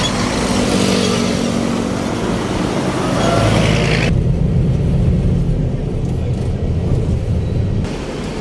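Steady engine and road roar of a motorcycle being ridden along a road, loud and continuous throughout with wind rumble, the hiss easing partway through.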